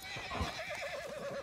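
A horse in Red Dead Redemption 2 gives a short, wavering whinny alongside soft hoof clops, heard fairly faint and alone.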